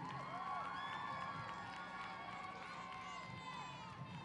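A dance competition audience at a national dance-off cheers and applauds in a steady, dense roar with scattered high shouts and whoops. The noise holds strong and even for the whole stretch.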